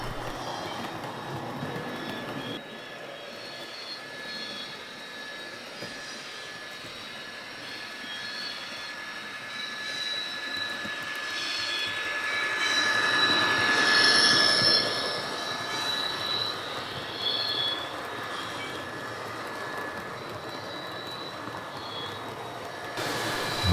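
A Murphy Models Irish Rail Class 201 model locomotive with DCC runs steadily, a smooth whirring motor hum that grows a little louder as it speeds up, without talk.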